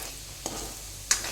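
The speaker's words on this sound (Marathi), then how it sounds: "रवा छान खमंग वास येतपर्यंत भाजून घेतला" Semolina roasting in ghee gives a soft, steady low hiss with faint stirring, broken by two brief sharp scrapes or clicks, close by and quiet.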